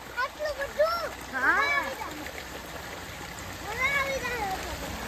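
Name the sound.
water flowing and splashing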